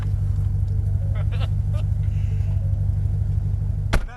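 A GT500 idles after hard track driving at Cresson to cool down. Its steady, deep engine rumble runs throughout while people talk over it, with a brief sharp click near the end.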